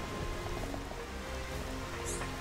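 Steady, dense rain falls in the Xenoblade Chronicles Definitive Edition video game, a constant hiss of drops on surfaces that stays even and moderately loud throughout.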